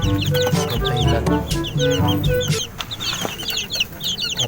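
Rhode Island Red chicks and hens clucking close by, a busy mix of repeated high peeping and lower clucks running throughout, loud and continuous.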